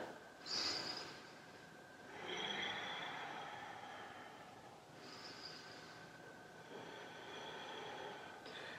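Slow, deep breathing during a yoga warrior flow: several long, soft inhales and exhales with pauses between them, close and quiet, and no talking.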